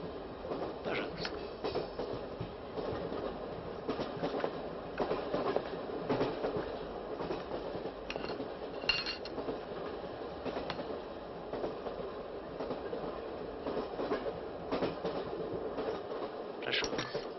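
A passenger train rolls steadily along the rails, a continuous rumbling clatter with faint rhythmic wheel clicks and occasional squeaks, heard from inside and fairly even in loudness throughout.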